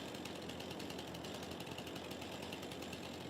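Chainsaw in Farming Simulator 22 near a log and yarder, a steady buzzing, rattling motor drone running continuously at moderate volume with no talking.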